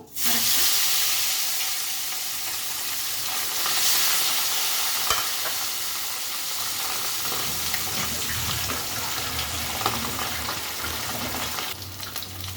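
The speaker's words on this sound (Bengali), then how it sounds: "এবার আরেকবার মাছটা ভেজে নেব।" Papda fish frying in oil, a loud, steady sizzle and spatter close by, with stirring scrapes and a clink partway through, continuing throughout.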